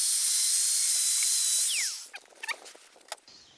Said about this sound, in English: in this method I am going to make a small slot here cut by using a angle grinder